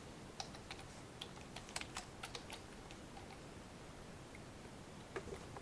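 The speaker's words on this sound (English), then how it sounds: "And we'll type OK here." Quiet typing on a computer keyboard during Revit drafting work: a sparse run of light, irregular key clicks, close but faint, over a soft steady hiss with no one speaking.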